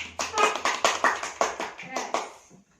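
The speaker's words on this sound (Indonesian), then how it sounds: "Berikan aplaus buat Dian." A classroom group claps together in a short burst of about a dozen brisk, fairly close claps that fade out after a couple of seconds.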